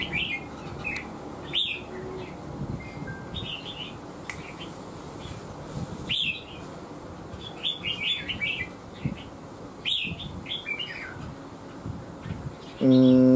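A caged songbird with a long tail chirps in quick bright bursts of tweets, repeated in clusters every second or two over steady background noise, fairly close and clear.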